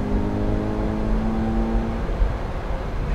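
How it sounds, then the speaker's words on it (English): A 2009 Chevy Cobalt LT engine with a cold air intake hums and revs with a whooshing intake sound, steady and close, then settling into a rougher drone. "Listen to that cold air intake."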